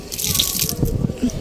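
Water running from a tap in a home, a steady close splashing stream that lasts the whole moment, with no voices over it.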